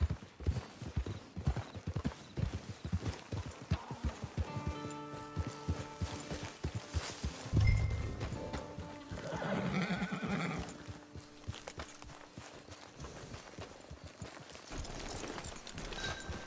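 Steady clip-clop of horse hooves trotting in Red Dead Redemption 2 Online, with a loud whinny partway through and some music-like tones underneath; no talking.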